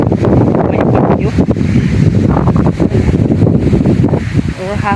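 Strong southwest monsoon wind after heavy rain buffets the microphone with loud, gusting rumble and rustle, while a person talks over it throughout.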